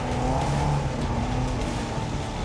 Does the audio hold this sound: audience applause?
no